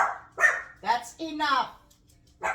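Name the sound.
dog barking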